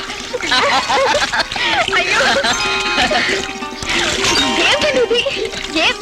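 Water splashes and sloshes from a bucket in a bathroom in bursts, mixed in with loud, excited voices talking over it.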